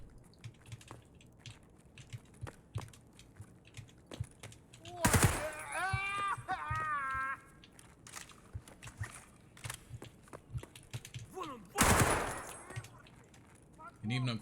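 A DT MDR .308 rifle fires in Escape from Tarkov, with two loud sharp bursts, one mid-clip and one near the end, standing out against a quieter background of faint clicks, movement and intermittent voices.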